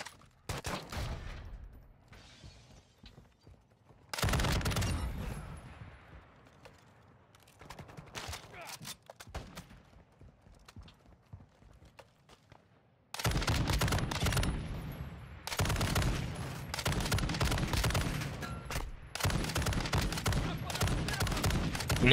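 Machine gun fire in a GTA roleplay game comes in loud bursts of rapid automatic shots separated by quieter gaps, with heavy sustained volleys toward the end and occasional voices faintly underneath.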